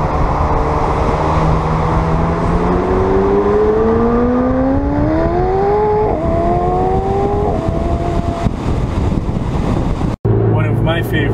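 A McLaren 720S sports car accelerates hard, its engine revving loud and close with rising pitch through the gears and a brief shift break, then a gear change cut near the end.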